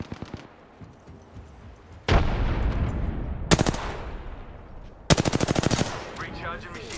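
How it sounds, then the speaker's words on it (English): Gunfire in the battle game Apex Legends: a long low rumble of shots, then a loud burst at 2 s, a sharp rapid volley around 3.5 s and a fast rattling string of automatic fire near 5 s, close and loud. "The enemies are shooting at me."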